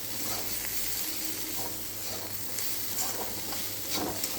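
Peanuts, potato, pointed gourd, onion and green chili fry with only salt in a pan, giving a steady close sizzle with stirring scrapes throughout and no talk.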